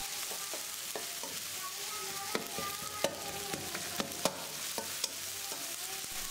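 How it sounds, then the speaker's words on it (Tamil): Ginger garlic paste sautéing in a pan for semiya kuska, a vermicelli biryani, giving a steady close sizzle broken by sharp scraping clicks of a spoon stirring against the pan. "இதையும் பச்சை வாசனை போகிற அளவுக்கு வதக்கலாம்."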